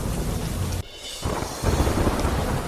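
Heavy monsoon downpour in Gujarat's Dwarka district near Kalyanpur, a dense steady roar of rain with rumbling thunder, briefly dropping away for a moment before swelling louder again.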